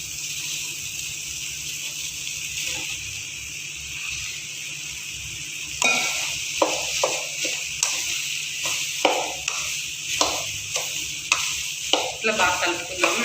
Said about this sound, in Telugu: ఇట్లా బాగా కలుపుకుందాము మిల్ మేకర్స్ వేసుకొని